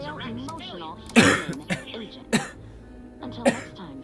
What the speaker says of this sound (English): my chest is a little messed up right now, so I'm going to be coughing a bit